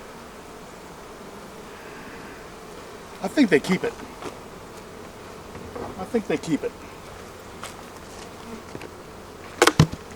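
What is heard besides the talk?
honey bees buzzing at beehive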